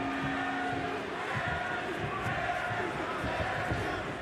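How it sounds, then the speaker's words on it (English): Steady roar of a Bellator MMA crowd between rounds of a cage fight, sustained and loud throughout with no clear peaks. "Crowd fired up here as we begin round number 2"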